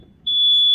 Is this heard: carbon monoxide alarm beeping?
yes